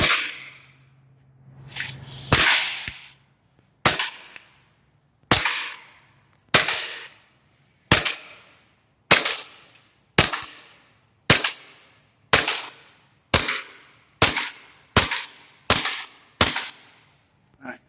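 Pistol fire from a CZ Shadow 2 or Glock 19X: about fourteen sharp, loud cracks in an even, unhurried rhythm, roughly one every second, each followed by a short decaying echo.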